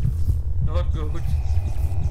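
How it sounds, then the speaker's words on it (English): A low, throbbing heartbeat effect in the Roblox horror game Before the Dawn pulses repeatedly in the background while someone talks over it, rhythmic and muffled beneath his voice. "Heartbeat is not good."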